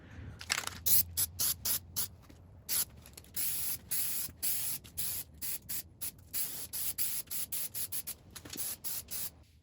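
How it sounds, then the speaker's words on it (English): An aerosol can of Plasti Dip sprays a coat onto a car emblem in a long series of short, repeated hissing bursts separated by brief pauses, close and fairly loud. "so I think giving it one more coat of PLASTIDIP would be the best idea"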